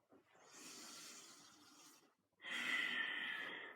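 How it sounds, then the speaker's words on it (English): Long, deep breaths during Kundalini yoga practice: a slow, airy inhale lasting about two seconds, a brief pause, then a stronger, hissing exhale, close and quiet with no talking. "that long, deep breathing really just starts to calm the mind"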